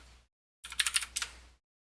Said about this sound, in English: Just go ahead and type in student,